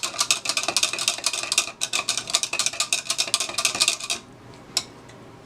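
A spoon stirs a yeast and sugar mixture in a bowl, fast regular clinking and scraping that goes on for about four seconds and then stops, leaving quiet room tone.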